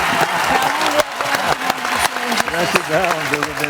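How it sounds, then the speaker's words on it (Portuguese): Studio audience applauding a guest's entrance on a Brazilian gospel TV variety show, a steady wash of clapping running throughout under a prominent voice. "É pra aplaudir de pé, galera."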